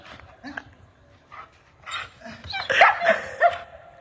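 A dog barks in several short, close bursts mixed with yips and whimpers, with voices faintly around it.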